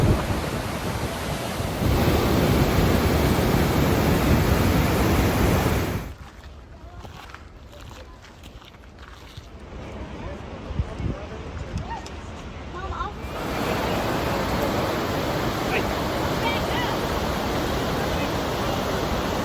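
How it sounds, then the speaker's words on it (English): Intense river rapids in Grand Teton National Park, a loud broadband roar of rushing water close by. It drops away for several seconds in the middle, then returns steadily. A voice talks briefly over it. "These are some intense rapids."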